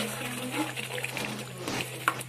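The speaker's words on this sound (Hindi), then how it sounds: "अब हम इसे डालेंगे थोड़ा सा पानी" A small amount of water is poured into spice masala cooking for chhole, a soft trickle and splash with faint sizzling behind it and a brief spike near the end.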